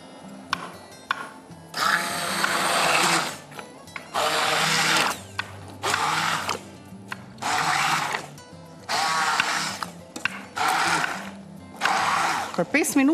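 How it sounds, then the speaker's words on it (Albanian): A hand blender pureeing food in a home kitchen, buzzing loudly in repeated bursts of one to two seconds separated by short pauses, with a person talking between and over the bursts. "Dhe tani, do t'a kalojmë në blender dore"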